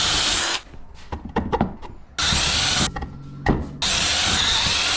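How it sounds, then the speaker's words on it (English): A power drill with a 3/8 bit bores holes for bolts while mounting an air hose reel to a wall, giving loud, close whirring runs that stop and start, with clicks and knocks in the pauses between them. "I'm gonna take a 3/8 drill bit and drill these"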